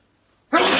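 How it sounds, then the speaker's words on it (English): A single close, loud sneeze bursts out abruptly after a moment of near silence and is cut off at the end. "I've got a sneeze now."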